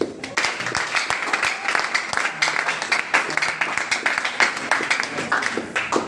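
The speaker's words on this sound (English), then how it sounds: "So let's clap for her." A class audience claps for a real estate instructor, a dense patter of many hands with sharp individual claps standing out, close and steady throughout.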